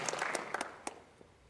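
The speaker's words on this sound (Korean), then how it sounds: "뜨겁게 한번 박수 해주시기 바랍니다" Church congregation claps in a short scattered burst, a handful of distinct hand claps close by that quickly thin out and fade.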